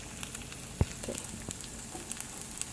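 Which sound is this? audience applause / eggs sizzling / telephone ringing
eggs sizzling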